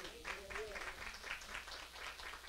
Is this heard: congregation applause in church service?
yes